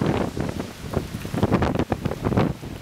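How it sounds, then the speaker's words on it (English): A strong gust from a severe storm in southeastern South Dakota roars loudly and continuously as trees howl and thrash, with heavy wind buffeting on the microphone. "The trees are just howling now."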